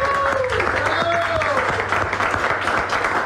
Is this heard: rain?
no